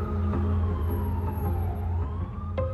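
Ambulance siren arriving at a roadside emergency involving an injured motorcycle rider, a wailing tone rising and falling over steady engine and road noise, fairly close and continuous.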